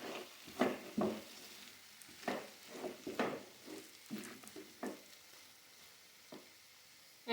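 Vegetable kabab mixture with vinegar, soy sauce and chili sauce is stirred in a pan, a series of soft irregular scraping and clacking strokes over a faint, quiet sizzle.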